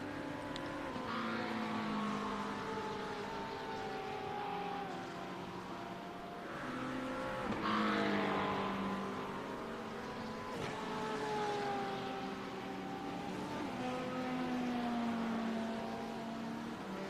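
Porsche GTD race cars in a racing video game at Silverstone run close together, their engines a loud, continuous whine that rises and drops through repeated upshifts and downshifts.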